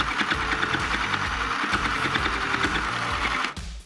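Sewing machine running a zigzag stitch on a bag strap: a steady, close mechanical whir with a rapid rhythmic needle chatter that keeps going without pause, then stops abruptly just before the end.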